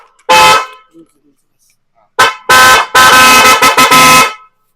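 Loud, close tractor horn honks: one blast, a pause, then a series of repeated blasts of varying length, harsh and sustained.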